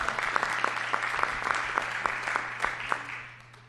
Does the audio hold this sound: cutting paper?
no